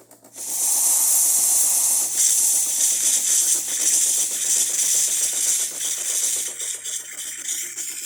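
A strong, continuous hiss from a DeLonghi Magnifica espresso machine's hot water spout starts abruptly and runs loud and close, easing slightly near the end.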